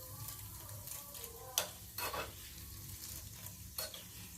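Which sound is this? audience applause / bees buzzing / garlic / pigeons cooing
garlic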